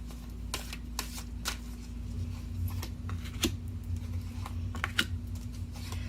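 Angel oracle cards being shuffled, soft riffling and flicking taps in scattered bursts over a low constant hum, close and fairly quiet with no voices.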